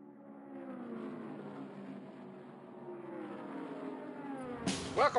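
A race car engine from the Cars 3 video game drones steadily at moderate volume, rising slightly in pitch, then a sharp burst of revving and whooshing noise cuts in near the end.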